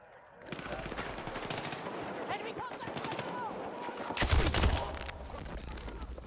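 Rapid automatic gunfire in a Battlefield 6 firefight: dense, steady bursts of shots close by, with a heavier, louder blast of fire near the end.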